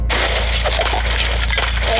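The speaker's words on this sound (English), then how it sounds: "I could break the glass in this game now." Glass shatters in a scary-themed video game, a loud crashing break over dense, constant game noise with a steady low hum underneath.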